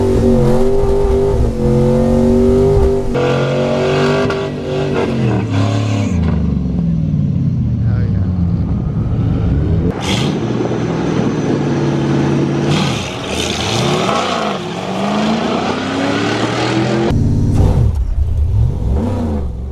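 Loud import car launching on a drag run, engine revving up through rising pitch sweeps with gear changes, roaring close and continuous.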